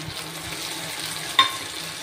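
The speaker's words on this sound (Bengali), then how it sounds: "এবার এই মশলাটা দিয়ে দিচ্ছি" Turmeric, ginger and green chilli paste added to a hot pan, a steady crackling sizzle with one bright clink of a utensil on the pan midway.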